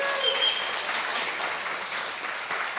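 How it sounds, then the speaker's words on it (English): An audience at a live event gives a round of applause, with dense, steady clapping from many hands that continues throughout and a brief whistle near the start. "let's give them all a round of applause."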